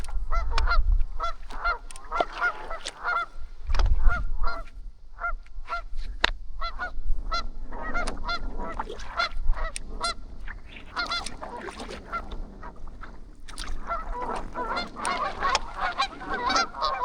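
Geese honk repeatedly on a wilderness lake in the Boundary Waters, a busy overlapping chorus of calls at moderate distance, with bursts of denser honking throughout and no talking.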